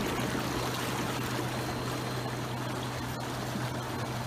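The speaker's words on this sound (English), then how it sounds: "Actually, I'll show you what the bubbles look like." Air bubbles running in an Intex portable inflatable six-person bubble hot tub, a steady loud rushing fizz and churn of water with a constant low hum from the blower, unbroken for the whole stretch.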